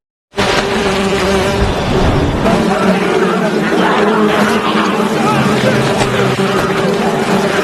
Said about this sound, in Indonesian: membawa sarang tawon dan seketika langsung melemparkan ke arah mereka